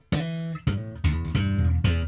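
An electric bass guitar played for a sound test: several plucked notes ringing in quick succession, deep and sustained, close and clear, with no talk.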